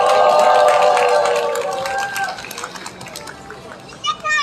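Applause at a climate justice march rally in Daejeon fills most of the clip as dense hand clapping, mixed with bright overlapping voices and cheering that fade toward the end.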